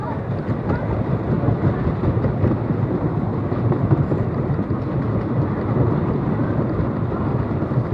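Rattly amusement park ride at Gulliver's World, a steady rumbling clatter of wheels and track running continuously at close range, loud and unbroken throughout.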